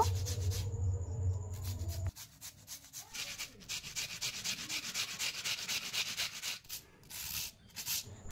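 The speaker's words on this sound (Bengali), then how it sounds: "এবার আলুগুলোকে গ্রেট করে নেব।" Raw potatoes are rubbed against a grater in a home kitchen, giving quiet, rapid, rhythmic scraping strokes, close up and steady with a few short breaks.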